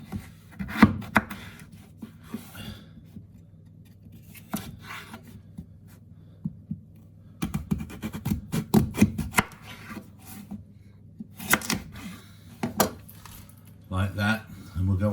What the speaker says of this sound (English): And what I might do is cut those in half again.